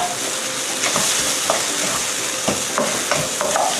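Minced beef stir-fried in a hot pan for a Thai curry potato bun filling: a loud, steady sizzle with repeated scraping stirs and clicks of a utensil against the pan, close and without talk.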